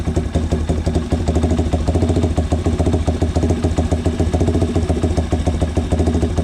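A Yamaha TW200 motorcycle engine idles close by in a loud, steady, throbbing putter as its idle is turned up, with no voices.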